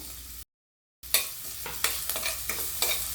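Chopped onion and curry leaves sizzle in hot oil in a tempering pan for a brinjal and ridge gourd dish, with a brief silent gap and then close, loud spatula stirs and scrapes over the frying.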